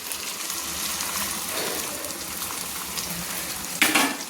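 Fresh green pea paste with ginger and green chilli is stirred in hot oil in a kadai, a steady close sizzle with scraping stirs and a sharper burst near the end.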